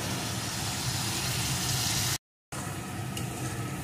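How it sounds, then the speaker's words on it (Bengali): Water lily stems frying and being stirred in a pan, a loud, steady close sizzle with faint scraping that runs throughout, cut by a brief silent gap midway. "যতক্ষণ না এই জলটা শুকিয়ে যাবে ততক্ষণ পর্যন্ত আমি এইভাবে নেড়ে নেড়ে ভাজতে থাকবো।"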